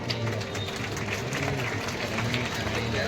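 An audience at a Republic Day cultural event in Piplrawan claps to welcome guests, producing dense, continuous applause that runs through the whole short stretch.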